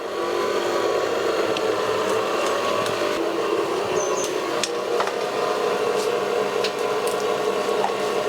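An electric hand mixer beats plum cake batter of flour, eggs, oil and sugar at low speed, a steady close whirring drone that stays even throughout with occasional light clicks of the beaters on the bowl.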